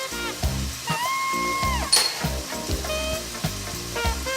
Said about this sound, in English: While these vegetables are sauteing